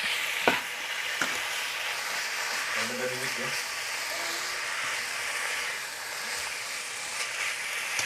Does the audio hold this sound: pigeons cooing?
no